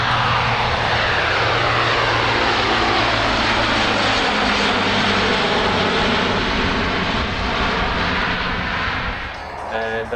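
A C-17 Globemaster III jet makes a slow pass at the Wings Over Illawarra airshow, a loud, continuous engine roar that sweeps and shifts in pitch as it passes close by.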